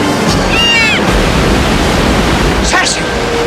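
A waterfall roars in a film scene, a loud, constant wash of rushing water with brief animal-like cries heard over it.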